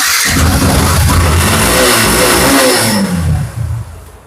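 A used Yamaha FZ version 2 motorcycle engine revs loudly and close, holding high before the revs drop and fade toward the end, with no talking.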